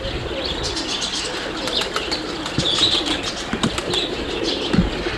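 Roller pigeon cocks in a loft cooing softly, with repeated bursts of wing flapping and a few chirps, close and moderately quiet with no talking.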